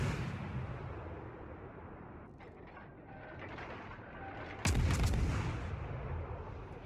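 Naval artillery fire in a warship video game, aimed at the ship Mars, with a sudden loud blast near the end over a steady mechanical rumble and clatter.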